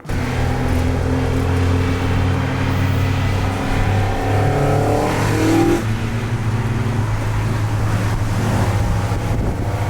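Opel Manta engine with a single-throttle-body intake revving steadily, a loud, close, continuous low drone with a rising note midway, heavily buffeted by wind noise outdoors.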